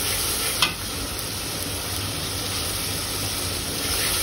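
Onion mixture stirred and fried in a pan for a potato-and-fish dish, a steady close sizzle with a brief scrape of the spoon early on and no talking.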